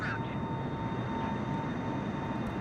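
Boeing 747 jet engines in flight in Microsoft Flight Simulator: a steady, dense cabin roar with a faint constant whine, unchanging throughout and moderately loud.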